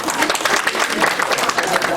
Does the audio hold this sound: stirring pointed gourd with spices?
no